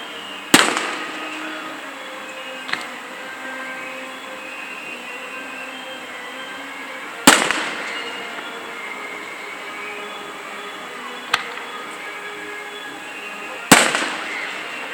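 Fireworks going off at a distance: several sharp booms and cracks spaced several seconds apart, each with a short rumbling tail, over a steady background of outdoor noise.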